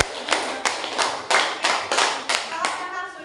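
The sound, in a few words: class applauding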